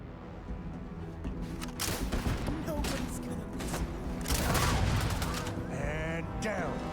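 Gunfire rattles through a firefight in the Starfield video game, bursts of shots and booms packed together over several seconds with a game soundtrack underneath.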